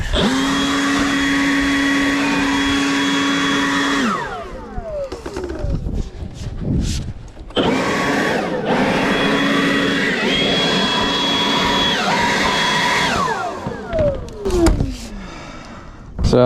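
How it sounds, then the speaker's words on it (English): Leaf blower clearing packed leaves from roof gutters near a ridge vent, a loud steady roaring whine that dips and surges as the throttle changes, cutting out briefly a couple of times before starting up again. "I don't want to blow those leaves up into the ridge vent, but that's exactly what I'm doing."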